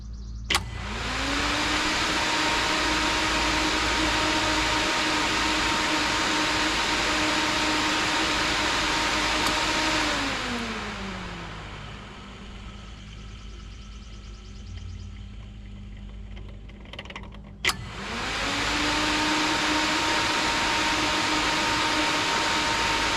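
The engine of a New Holland C232 track loader cranks and runs with a loud, steady hum. It winds down and goes quiet, then a sharp click comes and the engine cranks up again to the same steady drone.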